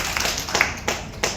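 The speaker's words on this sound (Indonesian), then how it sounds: "tepuk tangan sekali lagi ya" Clapping from a congregation at a church service in a Medan mall venue, a short burst of several distinct hand claps in loose rhythm, fairly close and loud, with no talk over it.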